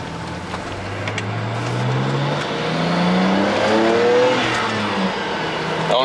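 Engine of a BMW 335xi with a bad clutch, recorded from a ride inside the car. It revs up through the gears, with rising and falling engine tones over steady road rumble.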